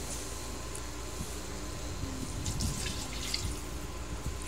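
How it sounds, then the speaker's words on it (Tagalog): Water runs steadily into a cooking pot of sautéed rice for arroz caldo, a continuous splashing pour with faint dripping and a low background hum. "ngayon naman po lagyan natin ng tubig."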